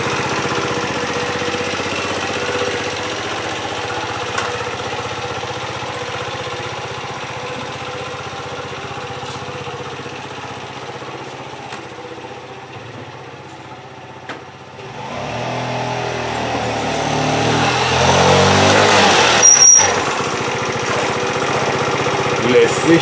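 An Alpha Motors scooter engine runs with a steady droning hum, then grows louder and rougher partway through as it revs up near the listener, with no talking.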